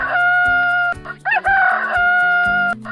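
A rooster crows loudly and close, a long drawn-out cock-a-doodle-doo over a backdrop of playful music.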